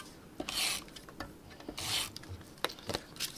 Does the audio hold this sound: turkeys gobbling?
no